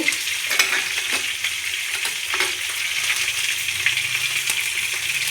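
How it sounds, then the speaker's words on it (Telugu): Urad dal dropped into hot oil for a stuffed brinjal fry, giving a steady close sizzle with small crackles and occasional stirring scrapes throughout. "ఇలా హీట్ అయిన ఆయిల్లో ముందుగా మినప్పప్పు"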